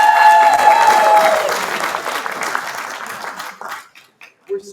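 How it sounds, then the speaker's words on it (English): A crowd at a university entrepreneurs club demo day breaks into loud, dense applause with some faint tonal ringing early on, then the clapping thins out and dies away. "Let's give a big round of applause for you guys"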